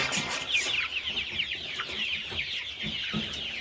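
Many free-range village chickens cluck and chatter together at close range, a busy overlapping flock noise.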